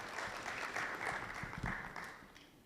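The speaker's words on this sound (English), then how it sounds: "A round of applause for her." An audience applauds a speaker coming on stage at a political party finance policy launch event, with steady clapping that is somewhat distant and fades toward the end.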